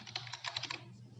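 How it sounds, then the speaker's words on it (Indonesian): A password typed on a computer keyboard while setting up remote access to a MikroTik router: a quick run of about eight crisp, close keystrokes, then quiet. "kemudian ketikkan passwordnya,"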